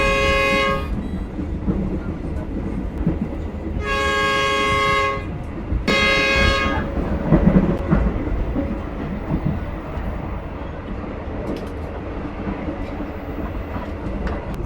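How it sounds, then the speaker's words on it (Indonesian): The Siantar Express passenger train in Indonesia, hauled by a CC 201 locomotive, runs at speed with a constant rumbling roar, and its shrill horn sounds in two long blasts early on. "seperti ini kecepatan kereta api Siantar Express lepas stasiun Siantar"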